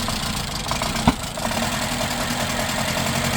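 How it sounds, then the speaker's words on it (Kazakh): A Mitsubishi Lancer engine idles roughly and unevenly with a steady, shaking rumble, loud and close, with one brief sharp knock partway through and no talking. "Мотор қалшылдап тұр қазіргі уақытта."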